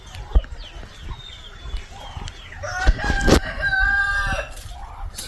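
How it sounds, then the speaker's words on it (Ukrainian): Chickens cluck and squawk close by, then a rooster crows loudly in a long drawn-out call, with scattered bumps and clatter around them. "в кого кури є кричать всі"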